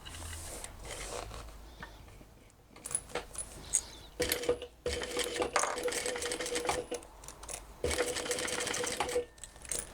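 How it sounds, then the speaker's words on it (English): A sewing machine stitches a cross body bag in several rapid, buzzing runs separated by short pauses, close and fairly loud with no talking. "now we're going to sew around the inside of that box and over there, catching those little pieces in the side"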